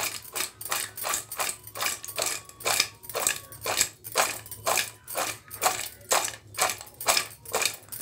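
Crispy fried corn is tossed with chopped onion and lemon juice in a bowl. Rhythmic scraping and crunching strokes repeat about twice a second, close and clear, with no talking.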